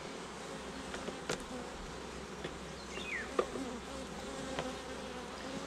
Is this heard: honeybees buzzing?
yes